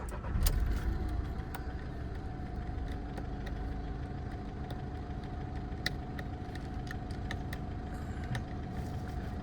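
A diesel car engine cranks over and settles into a steady idle, a continuous close rumble with a faint whine above it and no talking.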